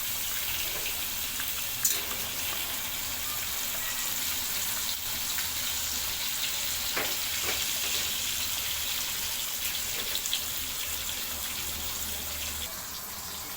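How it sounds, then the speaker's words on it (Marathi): Pomfret fish pieces frying on a very hot pan in a spiced curry kitchen, a constant broad sizzling hiss with a few faint clicks, no voices. "आपले तुकडे फ्राय होतात."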